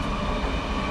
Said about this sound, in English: I'm out on my balcony, so some trains going past, so it might be a bit noisy